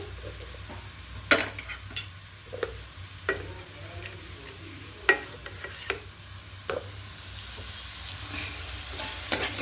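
Tomato and spice masala for a fish curry being stir-fried in a pan, a quiet continuous sizzle broken by sharp, irregular scrapes and taps of a spatula against the pan, with no talking.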